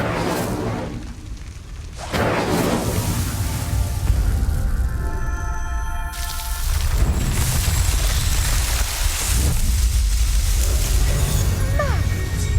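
Incendio fire spell cast in Hogwarts Legacy, loud bursting whooshes and crackling blasts that surge after a brief lull and keep roaring on, layered with dense game sounds.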